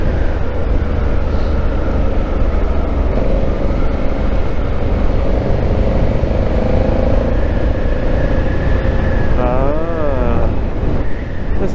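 A Honda Africa Twin motorcycle's twin engine drones loudly and steadily while riding, mixed with strong wind rush, and its pitch wavers up and down briefly near the end.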